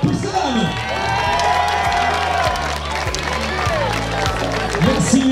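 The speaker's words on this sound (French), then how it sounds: "Les dernières photos, les derniers applaudissements s'il vous plaît." Crowd at a women's triathlon award ceremony cheering and clapping in a loud, continuous wash, with voices and an amplified announcer talking over it.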